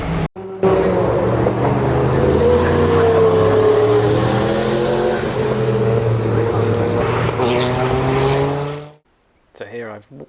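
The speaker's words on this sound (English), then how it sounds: "made my way to the cars racing on the GP loop now" Historic race cars on the Brands Hatch GP loop at a London Historic Trophy meeting on a hot summer day, engines roaring loudly and steadily for about nine seconds as a car approaches and passes, then cutting off abruptly.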